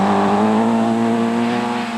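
A 1.9-litre Peugeot 205 rally car at the 1988 Cartel Rally roars close and loud, its engine holding a strong, steady drone with a slight pitch shift as it drives past.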